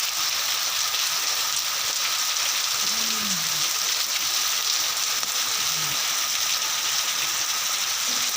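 Steady, dense rain falling outdoors, a constant close hiss of drops on surfaces that never lets up, with faint brief tonal chirps in the background.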